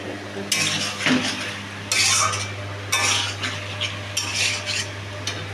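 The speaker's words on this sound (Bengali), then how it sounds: "জিরা, মুড়ি, আদা, কাঁচা লঙ্কাটা এটা দিয়ে দেবো এখন, দিয়ে খানিকটা নাড়াচাড়া করবো" Cumin, puffed rice, ginger and green chili stirred in a pan: bursts of metal spoon scraping and clinking against the pan, several separate strokes over a low steady hum and faint sizzle.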